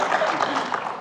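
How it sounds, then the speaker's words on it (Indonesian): Audience applause at a political debate, a short, dense burst of clapping mixed with voices. "Oke, tepuk tangan dulu."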